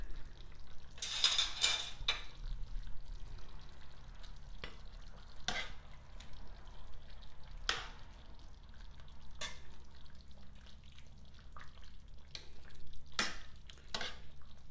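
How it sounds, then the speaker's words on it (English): Close-up clatter of a spoon stirring a pot of boiling Jamaican curry chicken, with soft simmering underneath and occasional sharp scrapes against the metal, no voices. "The curry chicken is boiling."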